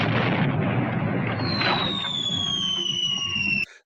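A starship explosion from the Star Trek original series episode "Arena" roars as a dense, sustained rumbling blast overlaid by a rising electronic whine that holds steady, then cuts off abruptly after a few seconds.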